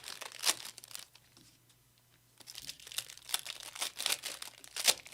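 A sports card pack is ripped open by hand, giving crisp bursts of tearing and crinkling wrapper noise at close range, with quieter handling between the rips and no talking.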